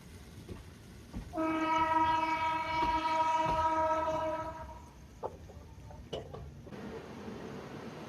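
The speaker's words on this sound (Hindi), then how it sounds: "ले रहे हैं एग्जिट भोपाल रेलवे स्टेशन से।" The overnight Indore to Jabalpur express pulls out of Bhopal railway station with a long, loud, steady horn blast lasting several seconds. It is followed by a few sharp clanks and a low rumble of the moving train. No one speaks.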